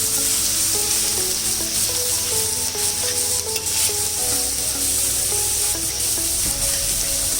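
Beaten eggs poured into a hot pan for mixed fried rice, frying on a high flame: a steady, loud, continuous sizzle with light stirring, heard over soft background music and no talk.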